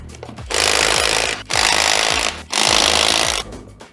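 An impact wrench rattles off the wheel and tire nuts on a Polaris RZR XP, three loud sustained bursts of about a second each, separated by brief pauses.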